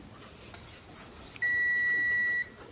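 A kitchen timer beeps while a lemon icebox pie crust cools, a short run of bright electronic chirps followed by one long sustained tone, faint household noise around it and no talking.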